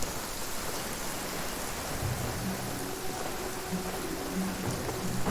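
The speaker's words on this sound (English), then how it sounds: "It's raining, which is pretty rare." Steady rain falling in a constant hiss in the video game Genshin Impact, with low rumbling tones in the background and no voices.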